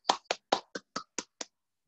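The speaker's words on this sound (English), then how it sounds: "Everybody clapping here." An audience gives brief applause at the close of a webinar talk on metrology for clinical engineers, about seven sharp, separate hand claps in a steady rhythm, then silence.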